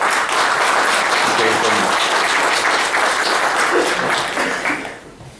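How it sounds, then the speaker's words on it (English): An audience applauds a guest speaker at a reef-keeping club meeting, dense steady clapping that holds loud for about four seconds and then fades out, with some voices mixed in. "let's give him a big round of applause."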